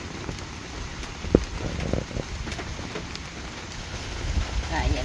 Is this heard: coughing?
no